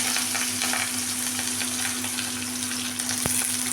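Chopped large onion sizzling in hot oil for a chicken gravy, a close, loud and steady crackling hiss with a stir or clink near the end, over a faint low hum and without talk.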